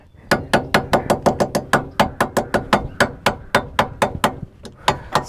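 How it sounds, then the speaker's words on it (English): Rapid, sharp rubber hammer taps on a Hyundai Tiburon car strut, around twenty strikes in quick irregular rhythm, close and loud with a slight ringing after each hit. "get a rubber hammer"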